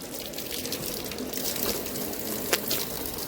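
Cold water pours from a stone spout beside a circular stepped pond, a steady splashing gush with occasional drips and brief louder splashes, close and alone without talk.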